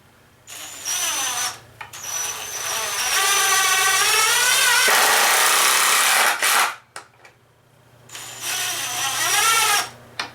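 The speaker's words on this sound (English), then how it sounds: "So we'll flip that over and we'll go ahead and screw that down." A power drill drives screws into the wooden frame of a homemade bucking horse. It whines in long bursts, and the pitch rises and falls as the screws bite, with short pauses between runs.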